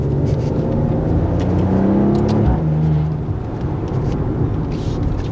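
A Maserati Ghibli S Q4 Ribelle Edition pulls away hard, its engine note climbing steadily through the gears, loud and close, then easing after a brief shift-like dip.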